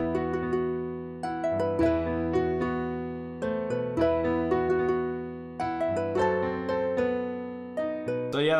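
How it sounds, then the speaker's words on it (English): A strummed harp chord melody built in FL Studio, with randomized velocities and bouncy triplet notes. Rolled plucked chords repeat in a lilting pattern, clear and continuous, with no voices. "So I'm going to randomize the velocities of this harp and Alt-S to strum."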